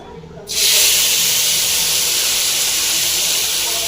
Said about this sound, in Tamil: எண்ணெய் சூடானோடனே தாளிச்சிடலாம்